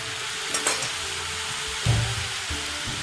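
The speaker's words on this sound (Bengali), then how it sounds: "চাউমিনটা দিয়ে দিয়েছি এবং কিছুটা মানে একটুখানি নেড়েও নিয়েছি" Chow mein noodles sizzle in a hot frying pan with soy sauce while being stirred, a steady close frying hiss broken by occasional scraping thumps of the spatula, with no talking.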